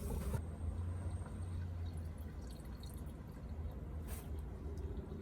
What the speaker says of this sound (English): Okay, let's pour some water and see what happens.